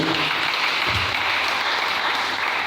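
A church congregation claps steadily together in praise of the Lord, a sustained, dense crowd applause that fills the room from start to finish.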